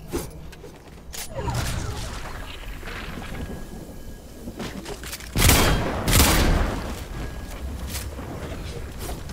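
Gunfire in a Fortnite match: two loud, dense bursts of shots rise mid-way above a steady rumbling, crackling background, with no clear talk.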